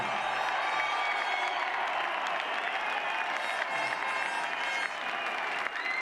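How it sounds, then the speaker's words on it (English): A motor racing crowd at Eastern Creek applauds the podium driver after a wet race, a steady, fairly distant wash of clapping that runs throughout with faint cheering. "Give a nice round of applause to Max Wilson."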